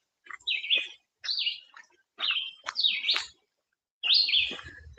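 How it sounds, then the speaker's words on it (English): A bird sings close by outdoors on a walk, repeating short bright chirping phrases in four or five bursts separated by brief pauses, clear against a quiet background. "Listen to that bird."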